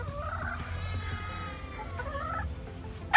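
Game farm hens in Montalban, Rizal, making soft, drawn-out clucks and calls that rise and fall over a low hum of background noise, ending in a brief louder bump.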